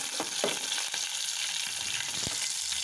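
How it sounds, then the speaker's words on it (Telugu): Mustard seeds, cumin and two green chilies fry in hot oil, giving a loud, continuous sizzle close up, broken by a few sharp crackles and pops and the scrape of stirring. "ఆవాలు, జీలకర్ర, 2 పచ్చిమిర్చి కొంచెం ఫ్రై అయిన తర్వాత"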